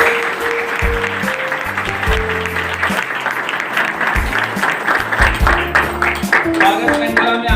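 Loud applause fills a church hall during a Pastor's Day celebration, with musical tones sounding underneath the continuous clapping.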